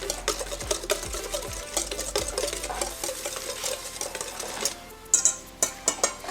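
A utensil stirs a creamy sauce with garlic in a pan, making repeated close, wet scraping and sloshing strokes with light clinks against the pan, and no voices.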